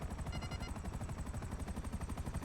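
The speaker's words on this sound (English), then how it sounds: "Hear the pops of the gunfire behind us." Rapid gunfire crackles as repeated pops behind the players during a GTA V game session, sounding dense and fairly distant under an engine-like drone.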